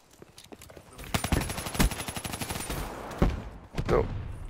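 Gunfire in the Black Ops 3 video game, a dense run of rapid automatic shots lasting a couple of seconds, with a few louder single cracks afterward, fairly close and loud.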